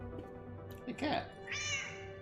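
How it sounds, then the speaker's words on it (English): A cat meows twice in the video game Lightmatter, a short mew followed by a longer, higher call, heard over a steady game background with a voice speaking. "Hey, cat."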